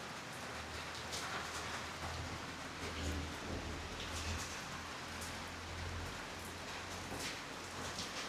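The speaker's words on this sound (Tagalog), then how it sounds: "Malakas na naman ang ulan." Heavy rain pours steadily onto surfaces, a dense, even hiss of countless drops with a low rumbling undertone, continuous and close.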